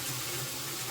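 Hot water runs steadily from a kitchen tap into a bowl while salsa is being canned, making a continuous close hiss and splash with no voices.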